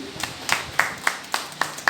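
Scattered clapping from a conference audience in French-speaking Africa, a handful of sharp hand claps spaced irregularly over a couple of seconds, fairly close, with faint murmuring beneath.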